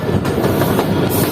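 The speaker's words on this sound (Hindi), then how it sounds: "तो ट्रेन इस वक्त हमारी पहुंच रही है कोची से चलने के बाद पहले स्टॉप पर" The Mohen Jo Daro passenger train, running from Karachi towards Sehwan, rolls along the rails with a close, loud rumble and rhythmic wheel clatter in a short burst heard from inside a coach.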